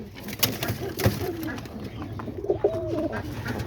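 Homing pigeons and small roller pigeons cooing in a loft, low soft coos under a busy background with occasional sharp knocks and rustles, some faint speech.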